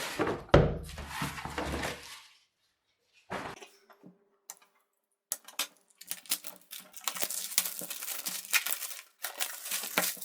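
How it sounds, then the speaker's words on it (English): Thin plastic wrap is pulled and peeled off a newly unboxed hardcover book, giving bursts of crinkling and rustling, a brief pause, then a run of quick close crackles and taps; no talking. "Just still some small plastic around. So let's see to get that off as well."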